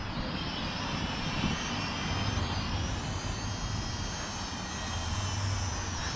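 A Snaptain SP660 drone hovers and flies outdoors in wind, its rotors making a continuous, even high whine with a low rumbling wind wash underneath, nearby and steady throughout.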